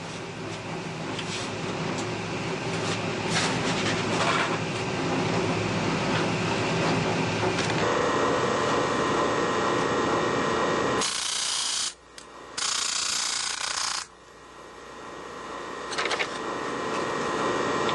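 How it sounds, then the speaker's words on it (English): Hinge pin ends ground on a grindstone, a loud continuous abrasive whir and scrape lasting throughout, with a couple of short interruptions where the tone thins and changes before grinding resumes. "go over to the grindstone, grind off one end of the pin"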